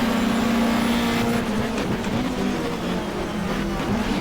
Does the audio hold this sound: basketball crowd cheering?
no